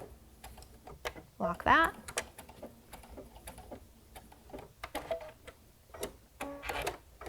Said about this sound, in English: So I'm stitching up to the edge of my opening,